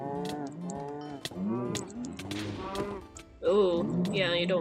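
A cow-like creature in Wynncraft, a Minecraft game world, lets out several loud, drawn-out bellowing moos in succession, close and uninterrupted, with a thud among them.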